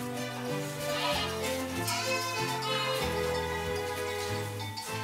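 Restless goats on a farm with a herd of around fifty to sixty, including males and kids, bleating loudly and continuously, overlapping calls layered close together.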